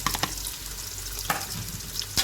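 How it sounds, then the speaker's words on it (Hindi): Onions frying in hot oil until light golden, a steady close sizzle with a few louder scrapes of stirring spread through the short stretch. "जब ऑयल गर्म हो जाएगा तो इसमें प्याज डाल देंगे और प्याज को हम लाइट गोल्डन फ्राई करेंगे।"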